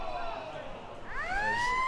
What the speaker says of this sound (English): The siren goes to end the second quarter, so half-time.